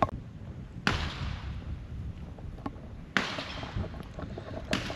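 Gunfire at an outback shooting range near Darwin on a Saturday morning: a few sharp distant rifle cracks spaced seconds apart, each trailing into a long rolling echo over steady outdoor background noise.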